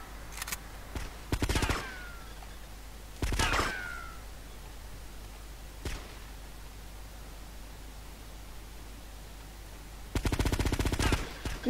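Gunfire in the video game Grand Theft Auto: Vice City: a few sharp bursts of shots with ricochet-like whines, spaced apart over a steady hiss, ending in a rapid volley.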